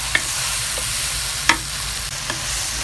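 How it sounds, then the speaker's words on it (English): Blended sambal ingredients with lemongrass stir-fry in hot oil with a steady, loud sizzle, broken by a few scraping clinks of the spatula against the pan, close up and with no speech. "this one you gotta stir fry until it's dry"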